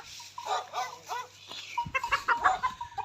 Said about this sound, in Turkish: Horoz girmiş bunu çıkar